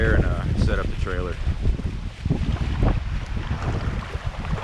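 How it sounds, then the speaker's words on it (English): Hurricane Sally's wind buffets a microphone amid flooding in Panama City, Florida, a loud, continuous rumbling roar with gusty swells, while someone talks underneath. "I apologize for the noise as far as the wind."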